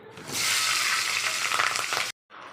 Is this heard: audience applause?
no